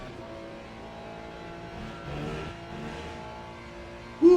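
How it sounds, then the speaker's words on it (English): A Ferrari GT3 race car engine from the Le Mans Ultimate racing game at Portimão, a steady low drone with the throttle feathered, rising slightly midway and then a sudden loud burst at the end. "In his Ferrari. The dirty windshield. Feathering the throttle right now."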